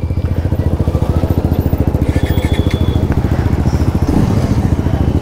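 Several motorcycles idle and rev close by as a group ride sets off from Naugachhia toward Tetri Durga Mandir, with a steady, loud engine putter that swells briefly near the end.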